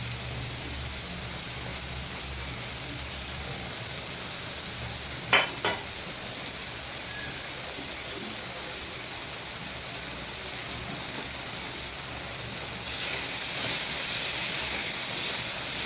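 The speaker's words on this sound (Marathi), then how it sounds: "परतून घेऊ आपण याला। थोडं शिजून घेऊ मसाला" Dry spice masala of goda masala, red chili powder and chili powder sautés in a pan for chole batata, a steady low sizzle and hiss with a brief clink of the spoon partway through.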